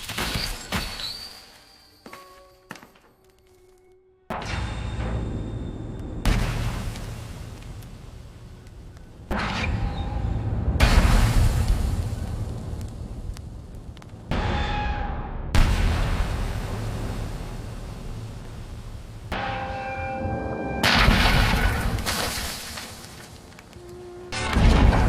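AI-generated explosions from the Kling 2.6 video model, a long series of heavy booms and rumbling blasts that grow bigger as they go, with brief gaps and scattered tonal effects between them.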